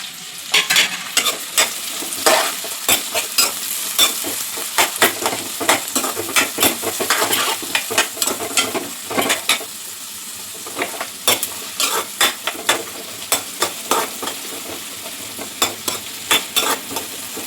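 Onions, curry leaves and green chillies sizzle steadily in hot oil for a chicken fry, with frequent sharp clinks of a spatula stirring against the pan throughout, close and loud.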